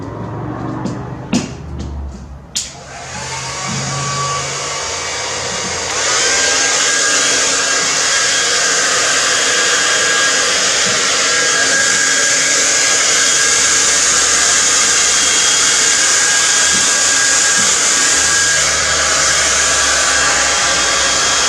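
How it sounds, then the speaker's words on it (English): A hair dryer plugged in and switched on during a gold wave resin pour, blowing with a loud, steady airy roar that holds constant for most of the stretch after a few clicks and handling sounds. "And I will plug in my hairdryer."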